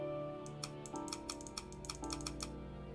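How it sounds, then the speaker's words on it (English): Keys of a typewriter struck in a quick, uneven run of sharp clicks, faint and close, over a steady low hum with no talk. "A typewriter."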